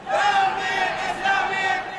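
Crowd at an Iran solidarity protest march in New York, many voices shouting and chanting together in a loud, dense roar that holds steady throughout.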